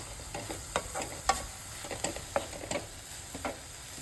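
A spoon scrapes and stirs banana flower stir-fry in a pan, quiet irregular scraping strokes over a faint sizzle, close by.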